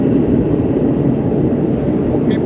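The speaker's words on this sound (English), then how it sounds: "It's a train pass." A train passing by, a steady low rumble and rolling drone of rail cars held throughout, loud and continuous.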